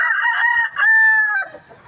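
Papay Gray gamefowl rooster crowing at a game farm, one loud close cock-a-doodle-doo with a drawn-out final note, fading at the end.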